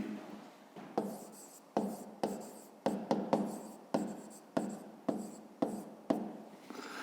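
A pen scratches across paper while someone writes out a fifth-grade math exercise, sounding as a steady series of short strokes with brief pauses between them, close and quiet.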